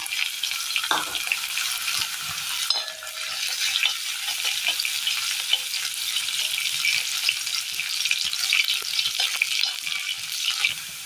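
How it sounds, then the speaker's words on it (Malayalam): Thinly sliced ginger and garlic fry with mustard seeds in a pan for a Kerala recipe, giving a steady, dense sizzle throughout with a single metallic clank early on and no voices. "ഇതിലേക്ക് ഇഞ്ചിയും വെളുത്തുള്ളിയും ചെറുതായിട്ട് അരിഞ്ഞെടുത്തത് നീളത്തിൽ കട്ടി കുറച്ച് അരിഞ്ഞെടുത്ത് ഇട്ട് കൊടുക്കാം."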